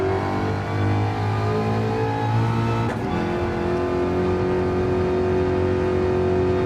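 Ford Mustang engine in Gran Turismo 7, a steady droning hum held at one pitch throughout, with a brief sweeping rise near the middle and no talking.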